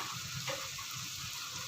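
Spices frying in a pan for mutton keema ghugni, with turmeric, a little sugar and cumin powder, a faint steady sizzle broken by soft scraping stirs throughout.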